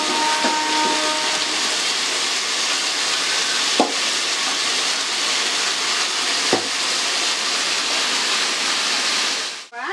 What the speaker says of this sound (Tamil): தக்காளி அந்த அளவுக்கு வதங்கணும். நல்லா வதக்குங்க.